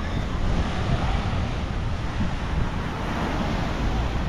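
Steady roar of very rough surf washing ashore at Seven Commandos Beach, El Nido, broadband and continuous with gusty wind noise over the microphone and no voices.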